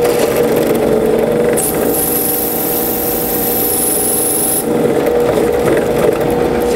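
A drill bores screw holes in a plastic router base plate over a steady machine hum, with a high-pitched whine lasting about three seconds in the middle, loud and close, with no talking.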